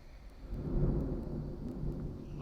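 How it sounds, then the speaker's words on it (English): Low thunder rumbles steadily through a heavy rainstorm, swelling and fading over continuous rain noise heard from indoors near a window. "Dang, that's lightning."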